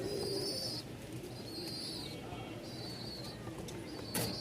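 Rajshahi Giribaz racing pigeons coo softly and repeatedly in the background of a low, noisy setting, with faint chirps mixed in and a brief flutter near the end.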